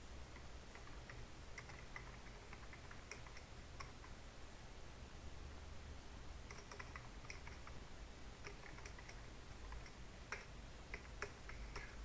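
Typing on a computer keyboard, faint and fairly close, with irregular bursts of light key clicks and short pauses over a steady background hiss.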